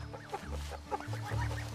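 Chickens being offered sausage cluck in short, close, repeated bursts, a soft but busy run of overlapping clucks with a low hum underneath.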